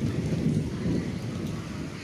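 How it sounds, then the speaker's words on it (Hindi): Steady rain with a low rumble of thunder during a monsoon downpour outside a home, a dense continuous wash of noise with no voices. "बारिश हो रही है साथ में गरज भी रहे, बारिश भी हो रही है।"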